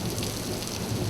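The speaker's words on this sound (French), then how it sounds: "en cas d'orage, lors de fortes précipitations" Heavy rain pouring steadily during a thunderstorm, a dense, continuous wash of downpour with low rumbling underneath, loud and unbroken with no voices.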